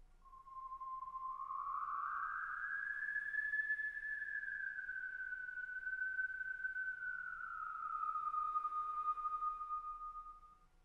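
A homemade eerie ambient effect: one long, loud, sustained whistling tone that slides slowly upward, then glides gently back down over about ten seconds, sonar-like and alone with no talk.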